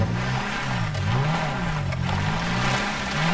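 A Maruti 800 car engine in GTA 5 revs up and down in wavering pitch sweeps, a steady loud mid-range drone running throughout with no talk over it.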